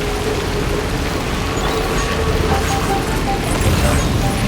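Heavy, steady rain pours down in the video game Death Stranding 2, a dense continuous hiss with faint mechanical rattles underneath, loud and unbroken throughout.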